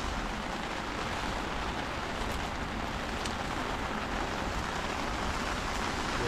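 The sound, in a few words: heavy rain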